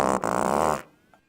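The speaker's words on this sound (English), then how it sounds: "feel like we didn't even play any fart noises this whole time." A loud, sustained fart sound effect plays for under a second, dense and buzzy, then cuts off abruptly, leaving near silence with a faint short blip.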